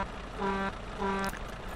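Twin blasts of a truck horn in the Euro Truck Simulator 2 video game, two steady tones about half a second each separated by a short gap, moderately loud over a low engine hum.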